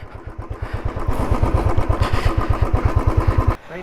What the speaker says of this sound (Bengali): সবাই লাইন দিয়ে এখানে বাইক রাখছি